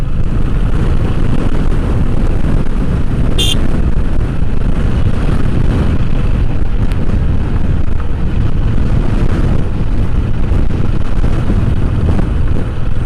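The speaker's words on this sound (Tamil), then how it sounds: "ஆடி மாதம் காற்று வேற லெவலில் காற்றா இருக்கு." Strong, steady wind roars and buffets the microphone without a break at Hidden Falls near Tirunelveli, India, a dense rushing noise with no voices.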